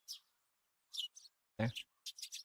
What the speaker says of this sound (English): The chirping of birds served as my alarm clock.